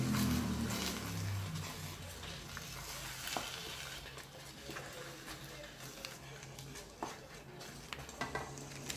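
A spinach, egg and feta filling is stirred in a bowl with a spoon, giving soft scraping and mixing sounds with a few light taps against the dish, close up and steady over faint background hum.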